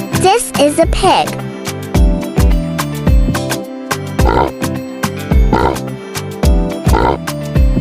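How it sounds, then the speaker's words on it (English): A pig oinks and grunts in several short, loud bursts spaced across the span, set against background music with a brief squeal near the start. "This is a pig."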